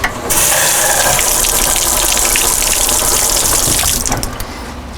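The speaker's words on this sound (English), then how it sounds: "So let me just run this over to the sink. I'll cool it off real quick." Water gushes from a sink tap over a freshly welded metal part, a loud steady rushing stream close by that stops abruptly near the end.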